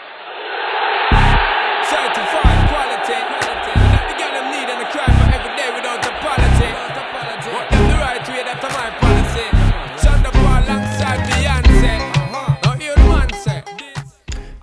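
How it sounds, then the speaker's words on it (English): Crowd noise at a soccer game, a steady roar with regular loud thumps and bursts running through, and sharper, busier peaks near the end as the crowd grows livelier. "You probably guessed it the second you heard the sound of the crowd"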